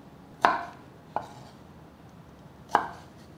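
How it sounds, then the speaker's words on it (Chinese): Three sharp knife strokes slicing baby corn diagonally on a board, isolated and irregularly spaced, each a crisp close thunk with quiet between. "把玉米笋斜切成2等份。"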